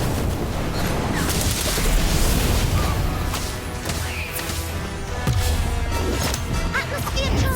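An Incendio fire spell bursts in Harry Potter: Magic Awakened amid dense, loud battle noise, with booming rumbles and crackling effects layered over continuous in-game voices and chatter.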